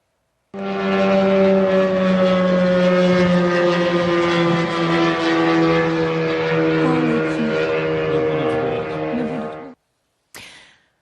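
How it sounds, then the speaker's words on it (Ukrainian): An attack drone flies low along a Kyiv metro line, its engine a loud, steady droning buzz with strong harmonics that holds for about nine seconds and then cuts off abruptly. "Дрон летить дуже низько, летить вздовж лінії столичного метро."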